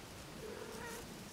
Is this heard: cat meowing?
yes